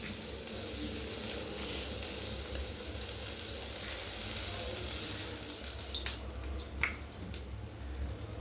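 Coconut oil sizzles in a hot pan on a stove, a soft, even hiss throughout, with a couple of sharp clicks near the end.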